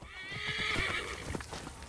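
A horse whinnies loudly in Assassin's Creed Origins, followed by hooves clip-clopping in a quick rhythm, with a game-like, slightly processed quality.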